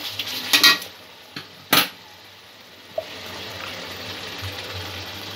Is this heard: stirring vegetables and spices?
yes